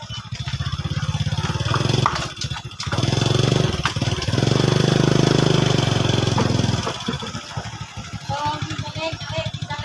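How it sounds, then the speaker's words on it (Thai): A saleng motorcycle sidecar revs loudly beside a Toyota Vigo pickup. The engine drones and surges for several seconds, then drops to a rough idle, with voices talking over it. "ขี่ซาเล้งมาแข่งรถความไวกับวีโก้"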